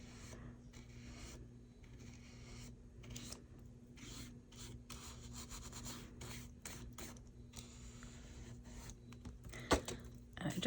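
A soft brush sweeps embossing powder off stamped paper in faint, repeated rubbing strokes up close, over a low steady hum.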